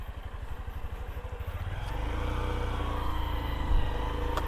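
Honda SP 125 125cc motorcycle riding and accelerating, its engine note steady and close, rising into a fuller, louder drone partway through with a brief louder burst near the end.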